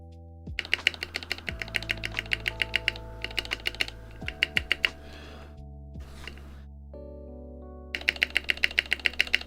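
Bursts of rapid typing clatter on a mechanical keyboard fitted with lubed Tealios switches, crisp close keystrokes in quick runs broken by brief pauses, alongside a sustained low electronic tone.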